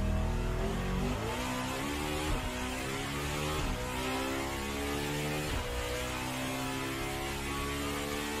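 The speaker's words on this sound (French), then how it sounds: "un V16 atmosphérique de 8 litres 3 de cylindrée qui prend 9000 tours dans une orgie sonore incomparable" A Bugatti Tourbillon's naturally aspirated 8.3-litre V16 revs toward 9000 rpm, giving a loud, continuous, dense engine roar with repeated rising sweeps of pitch and brief dips between them. No voices are heard.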